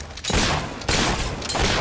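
Gunfire in the video game Fable 3 comes as a dense, loud fusillade of overlapping shots in three sustained bursts over about two seconds, with no voices.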